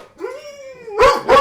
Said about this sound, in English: stop with the barking.